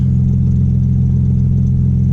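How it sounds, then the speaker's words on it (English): An Audi B5 S4 engine runs steadily with a deep, loud, close rumble and a faint crackle of small pops from a bad exhaust leak underneath, with no voices. "Ooh, little pops. I got a pretty bad exhaust leak underneath"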